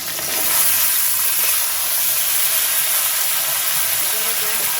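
Potato, pumpkin and Malabar spinach stalks and leaves sizzle steadily in a pan over low gas, a close, continuous hiss of frying without pause.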